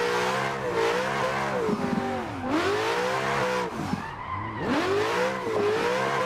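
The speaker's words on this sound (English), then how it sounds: "The drift's real nice here though." A car drifts in Assetto Corsa on a modded track, its engine revving up and down in sweeping pitch changes as tires squeal through a long slide. Loud and continuous, with no voices.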